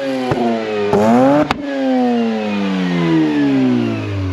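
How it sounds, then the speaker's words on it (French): Rotary-engine car revving high, with quick sharp blips rising in pitch, then a long sustained high-rpm wail that slowly falls away, loud and alone. "on voulait quand même entendre le bruit de ce moteur rotatif haut dans les tours"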